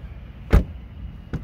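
Volkswagen Passat B6 car door from 2005 opening and closing gently, a soft thud followed about a second later by a lighter second knock, close by with quiet background.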